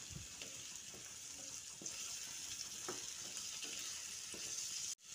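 A pumpkin and potato curry sizzles and bubbles in a pan after hot water is added, a steady hiss broken by soft stirring scrapes, close by and quiet, ending in a sudden bump.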